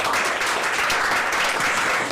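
Audience at a reading contest applauds steadily, a dense, even wash of clapping that holds at a constant level throughout, with no talk over it.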